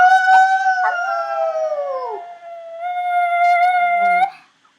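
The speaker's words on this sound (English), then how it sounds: "I think that's her way of howling at the moon." A pet dog lets out a long, loud howl from close by, wavering and slowly falling in pitch and then rising again before breaking off abruptly, with no voices over it.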